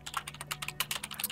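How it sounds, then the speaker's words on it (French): Clattering keystrokes on a noisy computer keyboard, recorded during a War Thunder tank game session, come in a quick irregular run of close, crisp taps with a steady low hum underneath. "J'espère qu'on n'entend pas trop mon clavier, même si c'est vrai qu'il fait pas mal de bruit."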